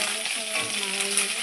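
Small fish frying in oil in a pan, a loud, dense, steady sizzle with a faint stirring scrape, close and continuous over a short stretch.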